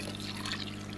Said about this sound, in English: Now we're gonna add the cup of boiling water